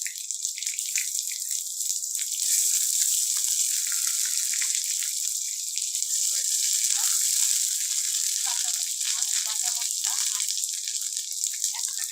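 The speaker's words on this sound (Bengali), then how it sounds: "আমগুলোকে ভালো করে ভেজে নিতে হবে।" Green mango pieces fry with garlic paste in a pan for a sour mango chutney, giving a steady, fairly close sizzling hiss that runs without pause and swells slightly midway.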